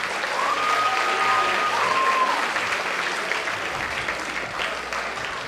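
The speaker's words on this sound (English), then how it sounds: "If you guys could give them one more round of applause, please." Steady, dense applause from an audience at a student event, moderately loud and continuing throughout without clear breaks, with faint voices in the background.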